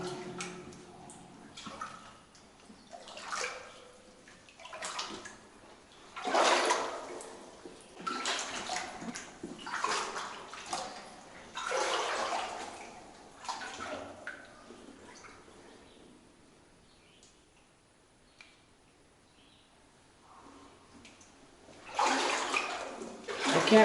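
Water splashes and sloshes around boots wading slowly through a flooded adit in a gold mine, with uneven surges of movement, quieter stretches between steps and a final louder splash, all close by and alone.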